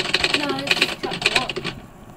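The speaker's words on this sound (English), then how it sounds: "It's the typewriter right now" Rapid mechanical clacking of a typewriter in a Goosebumps video game, with quick bursts of keystrokes and a carriage-like ring, running under game audio and voices before stopping abruptly.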